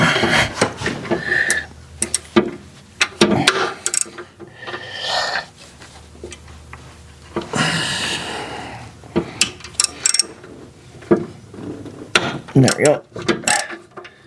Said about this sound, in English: I'm gonna use my special homemade O2 sensor socket and see if we can